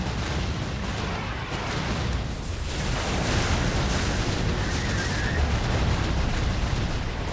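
Enemies fire back in Jade Empire, a continuous dense barrage of gunfire and booming blasts that stays loud and steady throughout with no pauses.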